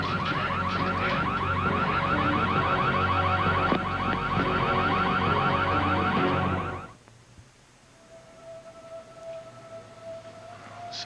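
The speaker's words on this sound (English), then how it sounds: "She's trying to open the gate. That's what set off the alarm." A car-style security alarm, set off when someone opens a gate, blares loudly in a rapid warbling pattern for about seven seconds, then stops abruptly. A faint steady tone hangs in the quiet afterward.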